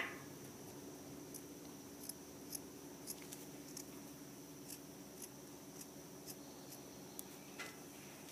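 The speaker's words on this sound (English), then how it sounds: "You're going to cut a little square around, and then cut a circle around it." Scissors cutting felt for a purse, quiet close snips and clicks scattered irregularly over a soft hiss, with several distinct sharp cuts spaced a second or so apart.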